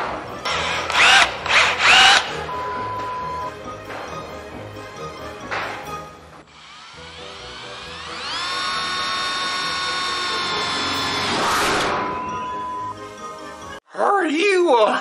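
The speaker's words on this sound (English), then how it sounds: "Find a drill bit and the drill." A power drill bores into the bed side of a 2011 Ford F-350 pickup. A few short, loud bursts come first, then a steady whine held for several seconds close by, with people talking in between.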